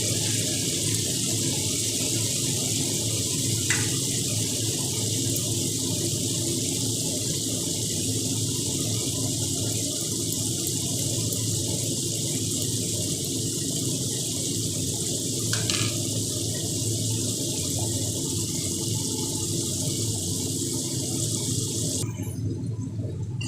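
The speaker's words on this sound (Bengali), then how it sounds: "এর মধ্যে একটু জল দিয়ে ভালো করে ধুয়ে পুরো মশলাটা আমি এর মধ্যে দিই।" Water runs steadily from a tap while spice paste is rinsed out of a mixer jar, a continuous splashing stream that carries on throughout with a brief change near the end.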